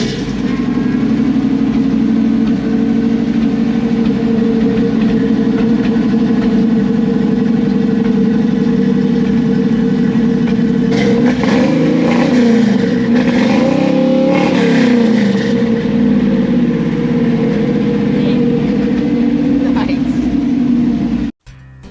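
A Chevy C10 truck with a frame swap and freshly fitted exhaust fires up and settles into a deep, steady rumble, with a cluster of throttle blips swelling the tone midway, loud and close for about twenty seconds.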